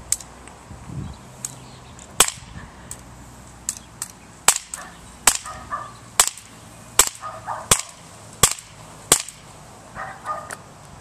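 Brand new pistols fire at a target downrange outdoors, a series of sharp cracking shots spaced at uneven intervals, about a dozen loud reports with faint echo between them.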